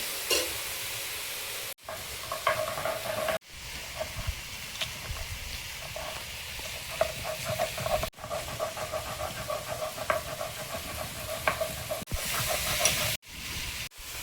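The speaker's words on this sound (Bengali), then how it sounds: "ভেন্ডিটা ভেজে নিয়েছি" Okra fries in a pan with a soft, steady sizzle and occasional light stirring, fairly quiet and close, interrupted by several abrupt cuts to silence.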